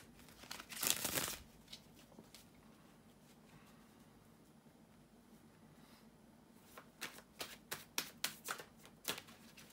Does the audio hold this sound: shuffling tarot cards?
yes